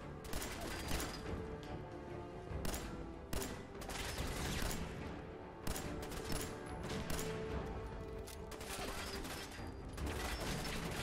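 Bursts of enemy gunfire from a Fallout 4 firefight fill the scene, repeated rapid shots in clusters and volleys, loud and close, with a dense crackling mix throughout and no talking.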